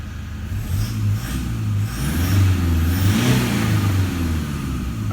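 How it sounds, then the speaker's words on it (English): A Toyota Hilux diesel engine with 300,000 km on it revs cleanly and smoothly with no rattle, its pitch rising and falling through a few steady throttle blips, close and alone. "It is just clean engine revving, no rattle at all whatsoever."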